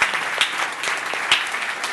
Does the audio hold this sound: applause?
yes